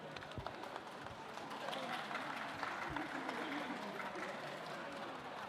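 Sustained audience applause at a factory inauguration ceremony in the Philippines, honoring the nation's President, a steady broad wash of clapping from a sizeable crowd with no talk over it.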